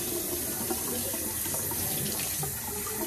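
Warm tap water runs steadily from a faucet into a sink during face washing, a constant close splashing stream with no talk.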